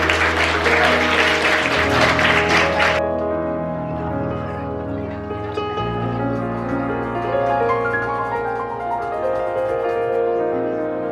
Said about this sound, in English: We just also have a round of applause for Amina as well.